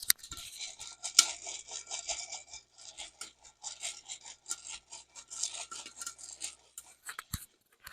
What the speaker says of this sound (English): So it kind of sounds like popcorn popping.